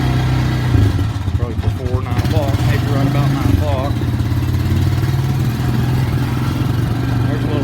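A small Ford 3000 tractor with a faulty clutch runs near a farmyard, its engine chugging steadily and loudly throughout while someone talks over it.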